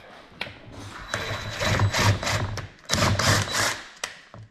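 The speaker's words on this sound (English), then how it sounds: "you can actually screw right into the plastic" A screw threads itself into the plastic body of a Can-Am HD11 Defender, heard up close as a few whirring, grinding bursts of driving separated by short pauses and a light knock at the end.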